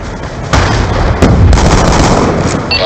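A frag grenade goes off in the Call of Duty Black Ops 2 video game. Loud, dense explosive rumble fills the whole stretch, with several heavy bursts layered on top of one another, close and overpowering.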